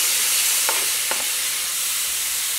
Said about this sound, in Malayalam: ഇനി ഇതിലേക്ക് തക്കാളി ചേർക്കാം.